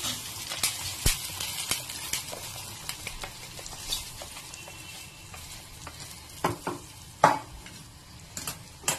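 Fried onion tempering sizzles in a pan as a spoon stirs and scrapes it into chayote and carrot gravy curry, with scattered clinks and taps against the vessel; no voices.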